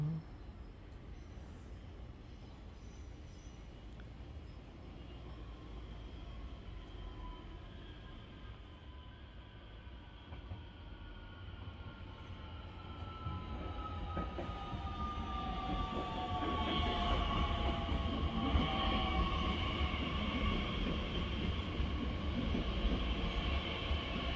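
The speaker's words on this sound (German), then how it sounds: "Zug fällt ein. Ein RB." A BR442 RB regional train (RB40 Mittelhessen-Express) pulls into Treysa station in the morning, a distant rumble growing louder and closer over about twenty seconds with rising wheel and brake squeal tones.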